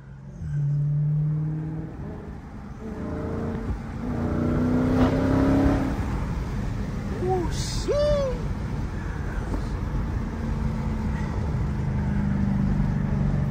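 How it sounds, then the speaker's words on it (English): Dodge Scat Pack V8 cars of about 500 horsepower drive through traffic among trucks, their engines rumbling and revving loudly close by while a horn or whistle-like tone rises in the middle; voices murmur faintly underneath. "now we got trucks getting active with the Scat."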